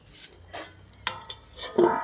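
A metal lid is set onto a pot of spicy Bengali shankar fish curry, heard as a few close clanks and scrapes of metal on metal in quick succession, with a brief ringing at the end.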